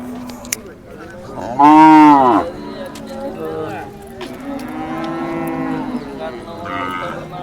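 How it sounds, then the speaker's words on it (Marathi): Khillar cows at the Sangola cattle market let out two moos: a loud, close bellow lasting under a second, then a longer, lower call, with faint market bustle in the background. "गाय बघून घ्या मित्रांनो खिलार गाय येते"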